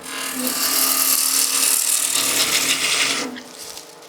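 A wood lathe making a peeling cut on a spinning top blank, loud continuous rasping shear of the tool against the turning wood with a steady motor hum, easing off near the end.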